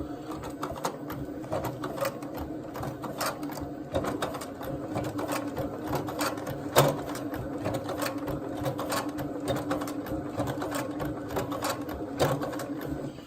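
A SEWPRO 204-2PB-DSE sewing machine stitches slowly, with a steady mechanical whir and a regular ticking needle rhythm that runs unbroken and close throughout.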